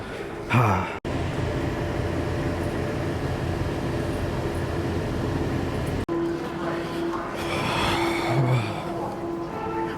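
An airport air train pulls away, producing a steady, close rumble and rolling hum that holds evenly, broken by a couple of abrupt clunks, with a faint tone rising near the end.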